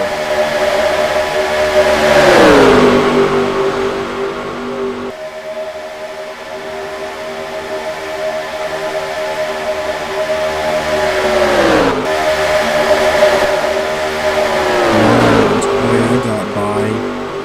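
Race car engines roar in NASCAR Racing 2003 at Atlanta, loud and sustained, with pitch sweeps as cars pass close by and rising and falling revs around the track.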